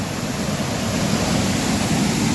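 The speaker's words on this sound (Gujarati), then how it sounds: "જઈ લ્યો આ નદી આવે છે." After heavy rain a swollen river rushes past close by, a dense, unbroken roar of water with no voices.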